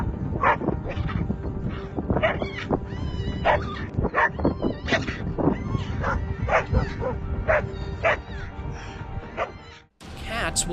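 Dogs, including a pair of black dogs, bark and yip in frantic bursts with whimpers mixed in while charging a marmot, amid outdoor commotion.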